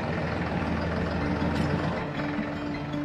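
A farm tractor with a mounted pumpkin harvester, a machine with a wheel and long spikes, runs with a steady low engine rumble and dense mechanical noise, close and continuous in a pumpkin field.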